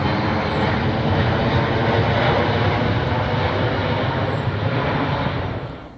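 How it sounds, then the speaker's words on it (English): A massive military plane passes overhead, a loud, broad engine roar that fills the whole stretch and fades slightly at the end, with no talk over it. "That's definitely a military plane. That is massive."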